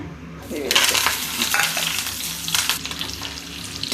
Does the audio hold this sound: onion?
yes